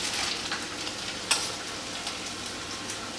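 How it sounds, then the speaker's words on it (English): Peppers and onions sizzle steadily in hot oil, a constant crackling hiss with a few louder pops, no talking. "You hear the sizzle of the oil, which is exactly what you want to hear."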